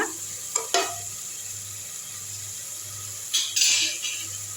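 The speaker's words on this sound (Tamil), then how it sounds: "இந்த மாதிரி எண்ணெயில் போடும்போது நம்மளுக்கு குழம்பு நல்லா கலர்ஃபுல்லாக இருக்கும். நல்லா வதக்கி விட்டுருங்க." Turmeric powder sautés in hot oil for drumstick kurma, a quiet steady sizzle with a faint low hum beneath and a few sharp spatula scrapes near the start and toward the end.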